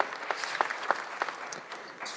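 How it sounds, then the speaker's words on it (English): Audience applause after a talk, a short burst of scattered hand claps at moderate distance with no voices over it. "Let's give Peter a round of applause"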